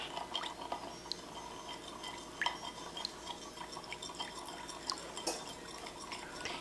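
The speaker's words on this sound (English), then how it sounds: "Stir that around, make sure we get all of the solids out." Melted beeswax mixed with added oil is stirred, a quiet continuous liquid swirl with small scattered taps and clinks of a utensil against the container.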